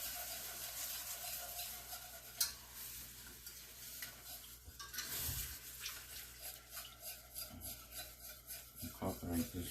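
Milk being whisked into a roux for Creole soul mac and cheese, faint rhythmic scraping and sloshing of the whisk in the pot, growing steadier toward the end.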